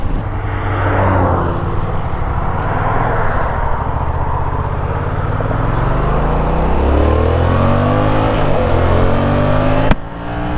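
A 2017 Yamaha FZ-07 motorcycle engine revs and accelerates steadily and loudly, with rising and falling engine tones and strong wind rush throughout, ending in a brief knock.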